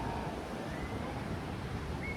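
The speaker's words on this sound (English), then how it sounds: "Getting some good waves coming in." Surf rolling in at Playas de Tijuana beach, a steady broadband wash of breaking waves with light wind across the microphone, continuous and fairly close throughout.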